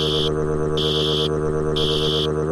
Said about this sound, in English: That is most certainly the sound of the fire alarm going off.